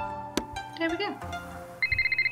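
A phone rings in the Nancy Drew video game Shadow at the Water's Edge, a short run of bright repeated electronic trills entering near the end after clicks and a few game tones.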